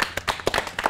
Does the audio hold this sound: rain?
no